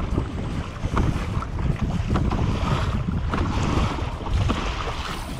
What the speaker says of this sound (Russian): Хорошо так плескает.